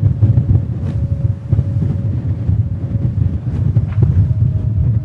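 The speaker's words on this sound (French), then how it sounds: "le bateau secoue un peu plus, hein, mais on a un peu de clapot" The trimaran Sodebo Ultim 3 sails at over 20 knots through choppy sea, a loud continuous roar of rushing water and wind buffeting with a low hull rumble, heavy and close.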